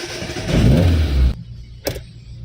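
A Suzuki Esteem car engine runs loudly near the microphone, then drops off abruptly as reverse gear is engaged, followed by a brief sharp click and a low idle hum.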